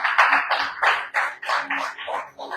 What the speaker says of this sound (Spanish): Denle un fuerte aplauso a nuestro Señor Jesús.